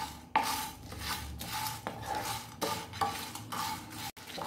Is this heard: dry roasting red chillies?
yes